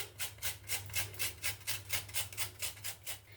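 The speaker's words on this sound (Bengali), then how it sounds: "গন্ধরাজ লেবুর খোসা একটু গ্রেট করে দিয়ে দেব" Gondhoraj lemon peel grated lightly over a rasp grater, a steady run of about fourteen rhythmic scraping strokes, close and fairly quiet, with a low hum beneath and no voices.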